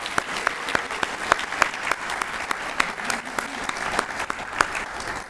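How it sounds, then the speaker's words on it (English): Steady applause from an audience at an angling achievement awards ceremony, sharp individual claps standing out from a dense, even wash of clapping throughout. "let's give a round of applause again for everyone that recognized tonight"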